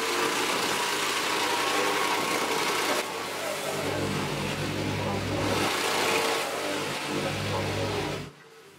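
Hired plate compactor running on a gravel sub-base for patio slabs, a continuous buzzing, rattling engine drone that shifts in intensity a few times before stopping abruptly near the end.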